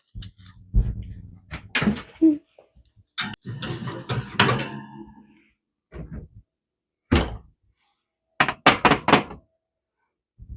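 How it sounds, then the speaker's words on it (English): Cookie sheet slid into an oven and the oven door shut, a series of scattered clunks, scrapes and thunks, ending in several sharp knocks close by. "I'm going to go ahead and get these in the oven for 11 to 12 minutes."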